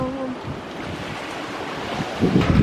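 A boat out at sea near Sattahip off the Thai coast rides through waves under strong wind, with a steady rushing roar of wind buffeting the microphone and splashing water that grows louder toward the end.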